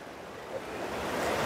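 Water at Johna Falls on the Rarhu river near Ranchi rushes in a steady, broadband roar. It sounds close and continuous with no voices.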